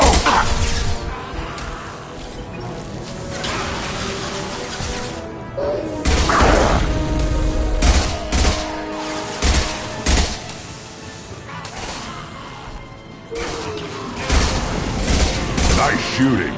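Explosions and crashing impacts in Mass Effect Legendary Edition, with several loud bangs and thuds amid ongoing combat noise, and voices talking through it.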